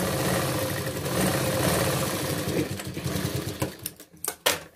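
A sewing machine runs steadily while stitching a tucked, lined blouse, its needle chattering in a fast even rhythm before slowing into a few separate clunks and stopping, close and loud.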